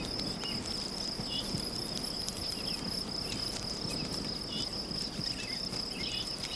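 Crickets chirping outdoors, a steady high-pitched trill with repeated pulsing chirps running continuously and fairly faint against a low background hiss, with no voices.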